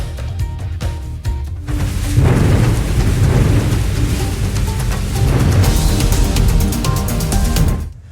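Heavy rainstorm with thunder, a dense, loud wash of pouring rain and deep rumbling that swells after a quieter opening and holds steady until it cuts off.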